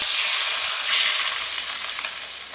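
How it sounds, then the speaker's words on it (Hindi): Loud, steady hissing sizzle of hot spiced oil tempering poured over cooking pumpkin, crackling continuously throughout. "तो अब हम ये तड़का इस पे डाल देते हैं।"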